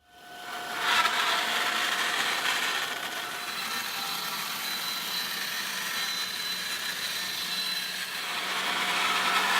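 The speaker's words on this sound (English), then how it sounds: "And I could do this on my bandsaw" A bandsaw cuts through the bottom of a plastic 5-gallon bucket, giving a steady loud whirring drone with a bright cutting hiss that starts abruptly and runs unbroken, close up and without speech.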